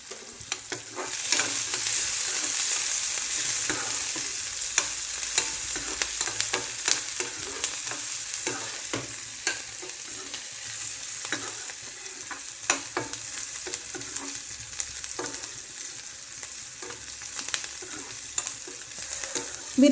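Chillies frying in a pan for vermicelli upma, a steady close sizzle with frequent scraping and clinking as a spoon stirs them, no voices.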